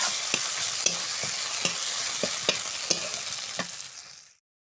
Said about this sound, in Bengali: একটু জিরে বাটা দিয়ে ভালো করে নেড়ে নেব।